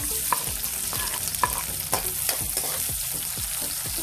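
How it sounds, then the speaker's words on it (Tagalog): Chopped garlic and onion sizzling in a hot pan while being stirred, a steady moderate frying hiss with repeated scraping strokes of a utensil against the pan. "Ihulog muna natin ang bawang, sibuyas,"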